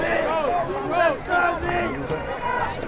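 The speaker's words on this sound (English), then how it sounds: "in the Beverly crowd, they are not happy with the officiating" Beverly high school football fans in a playoff stadium crowd against Concord-Carlisle, a continuous swell of shouting and jeering voices with individual yells rising above the babble throughout.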